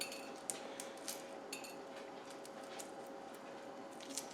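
Shells come off cooled boiled eggs with faint, sparse crackles and small clicks, close by and very quiet, with no talking.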